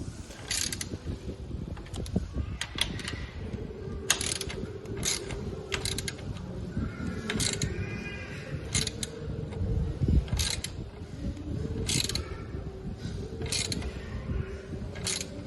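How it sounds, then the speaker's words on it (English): A T-spanner tightening a bolt on the linkage of a Kawasaki Ninja 300, with repeated metallic clicks and ratcheting creaks over a steady mechanical background, close and fairly loud. "So the bottom bolt has got tightened up."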